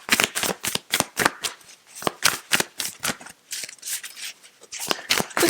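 Tarot cards being shuffled by hand, a rapid series of crisp riffling bursts in uneven rhythm, close and fairly quiet.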